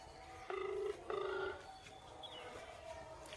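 A phone ringback tone sounds during a call: two short electronic tone bursts separated by a pause, fairly faint, then a low background hiss.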